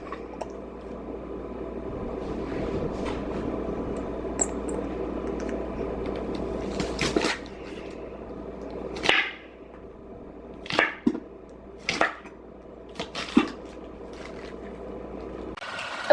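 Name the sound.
chopping onions with a knife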